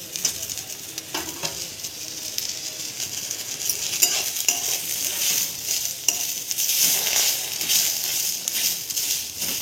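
Tomato, garlic and ginger sizzle in a kadhai, a steady bright frying hiss with occasional stirring scrapes of a spoon, close and continuous without speech.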